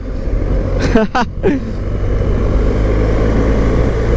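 A BMW GS 1250 R motorcycle engine runs under way with a steady, loud low drone, while a voice speaks briefly near the start over the engine noise.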